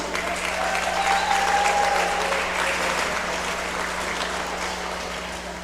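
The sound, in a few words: audience cheering and applauding at county fair show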